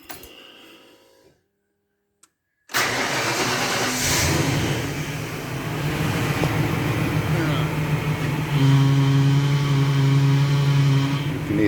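Engine idling on an NC Fairlane / EB Falcon with air in the power steering, the pump giving a steady loud whine and drone after a short quiet gap, with a higher tone rising near the end.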